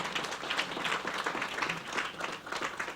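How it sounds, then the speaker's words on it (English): An audience at a university commencement ceremony applauds a long-serving nurse, giving dense, sustained clapping that swells and dips slightly over the full length. "A round of applause for her"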